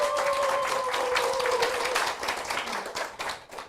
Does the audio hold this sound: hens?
no